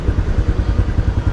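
Motorcycles and trucks idle in a queue waiting to board a barge to Dumangas Port, a close, steady low engine putter with rhythmic pulsing and light clatter.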